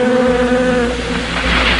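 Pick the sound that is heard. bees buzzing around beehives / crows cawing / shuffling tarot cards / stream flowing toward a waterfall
bees buzzing around beehives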